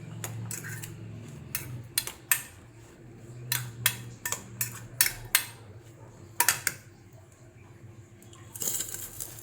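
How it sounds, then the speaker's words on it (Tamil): Raw mango is chopped with a knife on a board, a series of crisp, irregular cuts and taps up close, some in quick pairs, over a faint low background hum. "இப்போ நான் மாங்காயை கட் பண்ணிட்டு வரேன்"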